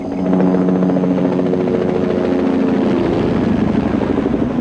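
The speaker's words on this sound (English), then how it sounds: "It's a Bell Jet Ranger helicopter specially equipped with infrared heat-seeking instruments." A Bell Jet Ranger helicopter fitted with infrared heat-seeking instruments flies steadily overhead, its rotor chop and turbine whine loud and continuous throughout with no voices.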